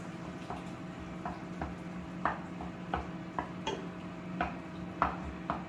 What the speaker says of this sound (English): So I add the diced tomatoes, give it a stir.